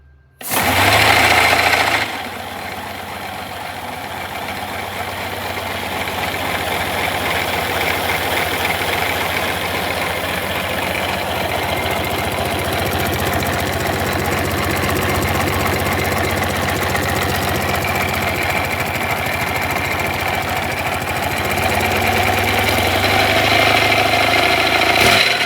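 A 3D-printed 157cc inline-twin dirt bike engine, fed from an air hose, cranks with a brief loud burst and then settles into a steady, even, rattly running drone that lasts the whole time, with no talk.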